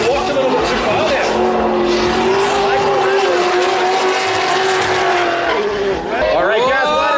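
Drift cars at a Summerbash competition skid and squeal their tires, a loud, sustained howl of engines and rubber close by, overlaid by an excited commentator talking continuously.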